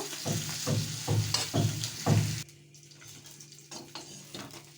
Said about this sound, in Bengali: প্রথমে আমি এই গরম কড়াইয়ে তেল দিয়ে তেলাপিয়া মাছটাকে ভেজে নেব